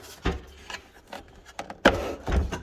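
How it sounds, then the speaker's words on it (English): Detaching the hose from a Milwaukee M18 wet/dry vacuum gives a close series of plastic clicks, knocks and rubbing scrapes, with one sharp snap of the latch releasing near the end. "It's got a latch for you, so if you wanted to take the hose off and clean it"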